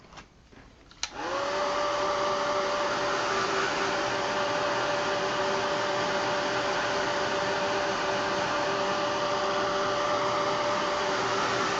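A hair dryer drying mixed media paste on an art journaling page clicks on after a brief moment of quiet, then blows a steady, loud whirring airflow without pause for the rest of the time.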